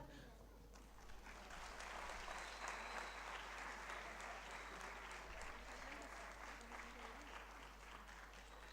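Applause fills a foundation day celebration hall after journals are released, a steady dense wash of clapping from a large audience, moderately distant and fairly quiet, holding evenly throughout with faint background voices.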